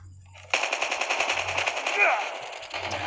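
Sustained automatic fire from an M4A rifle in Call of Duty, a rapid stream of loud shots running for a few seconds after a short lull, with a game hum underneath.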